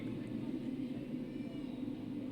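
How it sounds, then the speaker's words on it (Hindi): A drone flies overhead at an outdoor yoga session, giving a continuous low droning hum at moderate, steady loudness throughout. "ड्रोन उड़ा रहे हैं आपके लिए"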